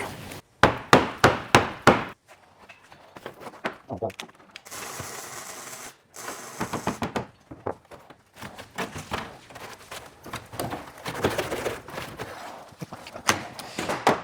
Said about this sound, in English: Let's start ripping this out with a hammer.